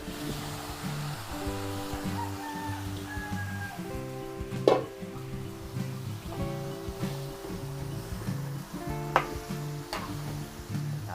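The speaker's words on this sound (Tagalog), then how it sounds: "Tapos ilagay po natin yung ating marinade ng apritada." Afritada marinade hits a hot pan with a steady sizzle and frying hiss, with occasional sharp clinks of a spatula against the pan.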